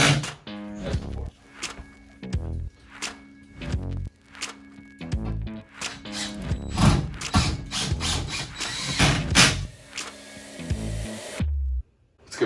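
Screws being driven back into a Momentum 397TH-R electric fireplace insert with a power driver, giving repeated short ratcheting whirs and clicks in bursts, close and fairly loud, with brief pauses between each screw.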